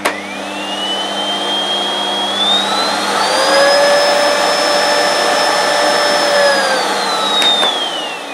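A French-made Rowenta Tinixo vacuum cleaner runs steadily and loudly up close, its motor whine rising in pitch partway through and holding, with a faint click near the end and no talking.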